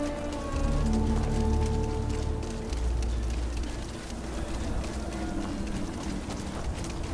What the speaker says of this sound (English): I swear that cow made it rain.